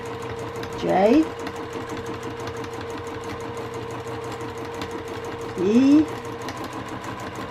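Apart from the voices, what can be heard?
sewing machine stitching cursive lettering on a hankie pillow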